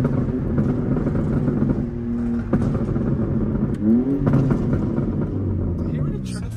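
Heard from inside the cabin, a BMW M3 Competition with downpipes rumbles steadily with brief rises in pitch on downshift rev-matches, while people talk over the engine.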